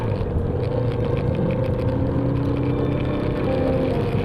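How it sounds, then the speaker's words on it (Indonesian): Big motorcycles arriving at a roadside stop in Bogor, producing a continuous low engine rumble with a steady droning hum, close and unbroken, with no talk. "ini motor-motor besar moge pada berdatangan"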